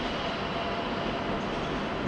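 Two railway locomotives running on their own pass close by outside München Hbf in the evening, giving a steady, low rumbling roar for the whole short stretch.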